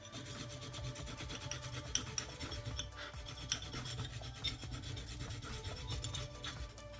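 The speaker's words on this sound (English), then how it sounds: "we'll get some juice off of this as well as grated ginger. So I'm going to grate that down." Fresh ginger grated on a small hand grater, a steady scraping rasp that runs continuously for several seconds, close and fairly loud with no talking.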